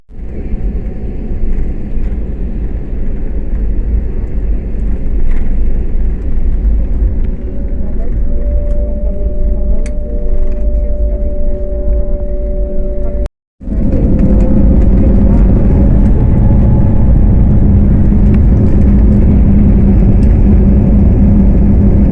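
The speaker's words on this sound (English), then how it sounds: "He just started the flight, and the flight is just moving slowly." Passenger jet on a Kolkata to Hyderabad flight heard from the cabin as it taxis and builds speed, a loud, continuous low engine rumble with a rising whine, briefly cut off midway before resuming even stronger.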